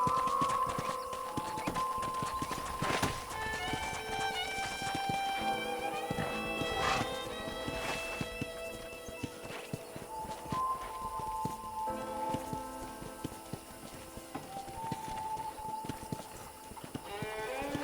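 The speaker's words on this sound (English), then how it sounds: "let's see if you can still ride a horse" Steady clip-clopping horse hooves keep up a trotting rhythm around a ranch in the video game Red Dead Redemption, with light background music and occasional chimes layered over the top.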